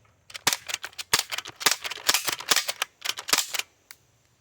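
Umarex MP-5K BB gun firing a rapid string of sharp, snappy shots, roughly a dozen uneven cracks in under four seconds, loud and close with no talking.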